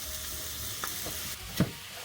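Meat browns quietly in a pan with a drop of oil, a soft, steady frying hiss broken by a couple of brief clinks or scrapes.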